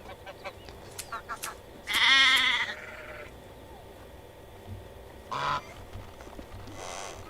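Sheep bleating in the farming game Medieval Dynasty, one loud drawn-out bleat in the middle and a shorter one later, over quiet ambient background with light clicking sounds.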